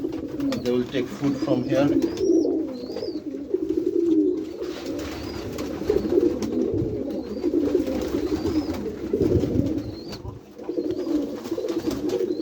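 Pigeons coo repeatedly inside a white pigeon loft, with soft, overlapping throaty calls close by while a person talks over them for most of the stretch.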